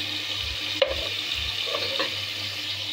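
Onions frying in oil in a cooking pot for koshari sauce give a steady, close sizzle with a few soft stirring clinks and scrapes.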